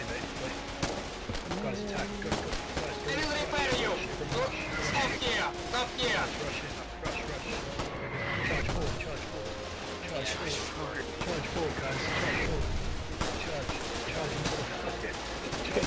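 Gunfire in a Foxhole battle around a garrison house, dense bursts of rifle and machine-gun fire mixed with heavier blasts, continuous and loud, with voices talking over it throughout.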